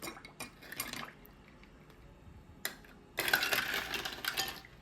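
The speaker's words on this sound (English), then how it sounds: "So now you add in the ice." Ice cubes drop into a glass of homemade Earl Grey tea, a few sharp clinks early and then a louder burst of clattering, knocking cubes, close and otherwise quiet.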